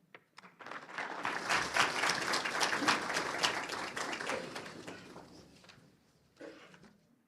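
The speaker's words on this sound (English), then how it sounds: "Another biggest applause for our Secretary General of the Commonwealth" Applause from an audience after a lecture, with distinct individual claps that swell quickly, hold for a few seconds, then fade out, followed by a brief final patter.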